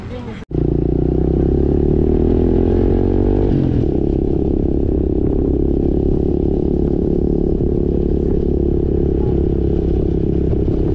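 A motorcycle engine runs steadily and loudly close by, with a revving rise early on and rattling clatter throughout.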